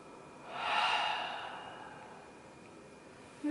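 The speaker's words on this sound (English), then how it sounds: "Just take a deep breath." A slow, deep breath drawn in during a guided meditation, a soft airy rush swelling and fading over about a second, alone in a quiet room.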